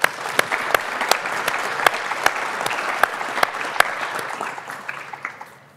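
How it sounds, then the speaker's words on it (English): An audience applauding health professionals at a public and allied health symposium, a steady round of clapping with a few sharp nearby claps, tapering off toward the end. "let's give them a round of applause"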